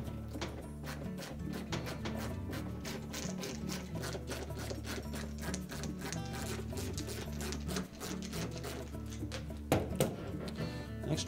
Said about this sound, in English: remove four screws across the top, and the next two down